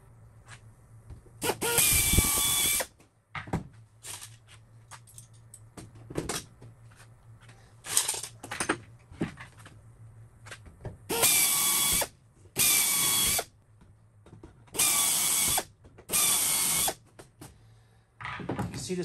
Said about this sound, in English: step one in the process is to match drill these holes with a number 40